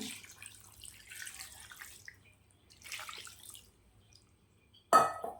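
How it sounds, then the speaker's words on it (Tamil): Water is poured in several short bursts into a pot of country chicken curry, splashing in separate pours with quiet gaps between them and a sharp louder splash near the end. "தண்ணி சேர்த்துக்கோங்க."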